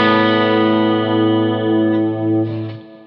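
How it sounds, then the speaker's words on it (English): Rhythm guitar through a Hughes & Kettner Black Spirit 200 floor amp with heavy reverb, a single sustained distorted chord ringing out clearly and decaying near the end. "I think I drowned that sound with a bunch of reverb as well. So this was roughly my rhythm guitar sound"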